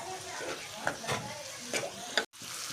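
Chana masala is stirred in a hot pan over raised heat, with rhythmic scraping and shuffling strokes over a steady sizzle, close up, plus a faint background voice and a brief dropout near the end.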